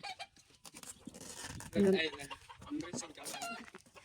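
Rhode Island Red chickens cluck in short, fairly faint calls, with one louder cluck near the middle, under and between bits of speech.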